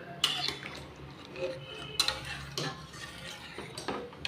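Ghugni gravy is stirred in a pan. The quiet scene is broken by a few sharp clinks and scrapes of a spoon against the metal, spaced a couple of seconds apart.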